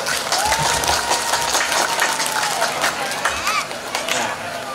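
Villagers of Tumpak Kepuh gathered at a night jaranan folk performance clap together in a loud, dense wash, with crowd murmur and a faint tonal whistle-like sound mixed in.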